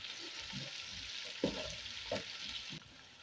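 Onions, garlic and ginger fry in a pot for a Kenyan beef pilau, giving a steady soft sizzle with a few louder crackles and stirring clatters, heard close with no talk.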